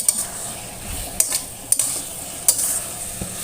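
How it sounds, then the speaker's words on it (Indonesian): Bitter melon stir-fried with dissolved starch over high heat, with scattered spatula clinks against the pan over a soft, steady sizzle. "Besarkan apinya. Tumis seperti ini ya."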